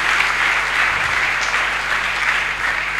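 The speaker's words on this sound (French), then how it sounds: "Acclamez pour Jésus-Christ." A church congregation claps and cheers for Jesus Christ, a dense, sustained wash of applause filling the room at steady loudness throughout.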